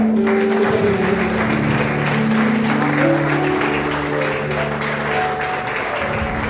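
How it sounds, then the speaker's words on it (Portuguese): A church congregation at a Holy Communion service applauds steadily and loudly for several seconds, with dense clapping over sustained music tones and voices. "Você pode aplaudir a Jesus."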